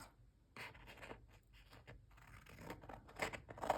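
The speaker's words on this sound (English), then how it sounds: "Now I'm going to cut across the back side and cut these down. Maybe I can use my scissors." Scissors cutting paper strips for a journal, a series of quiet crisp snips and rustles at an uneven pace, close by and otherwise near-silent.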